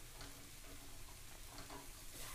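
A red potato vegetable hash crisps in a frying pan with a soft, continuous, even sizzle, faint and close, with no talking.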